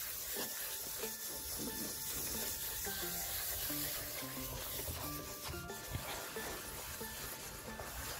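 A car headlight is rubbed firmly in circles with a cloth, making a quiet, close scrubbing and swishing friction sound that repeats in uneven strokes throughout.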